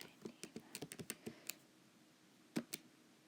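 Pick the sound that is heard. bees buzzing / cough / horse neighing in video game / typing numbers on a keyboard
typing numbers on a keyboard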